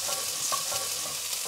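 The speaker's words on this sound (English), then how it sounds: "while the onions are sizzling" Onions fry with a steady, close sizzle and a constant crackling hiss, joined by a few faint scraping stirs, and no voices.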